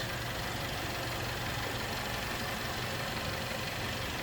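A 2015 Mercedes-Benz C300 engine idling steadily with a smooth, even rumble, no voices.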